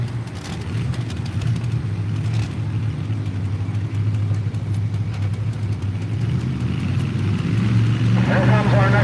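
A 6,200-pound 1970 Chevy pulling truck runs at a truck pull, its engine a steady, moderately loud rumble that builds near the end, with an announcer speaking over it.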